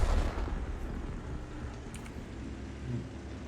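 Heavy artillery rounds hit a tank in a video game, a deep, booming low rumble that starts loud and fades into a continuous roar of battle noise with no talk.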